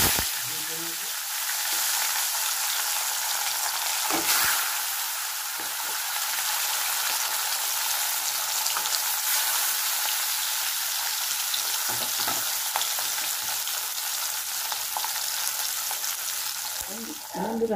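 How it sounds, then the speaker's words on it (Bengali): Pieces of bata fish fry in hot oil, giving a loud, steady sizzle with crackling that runs unbroken for the whole stretch, with no talking over it. "আমার মাছ ভাজা হয়ে গেছে।"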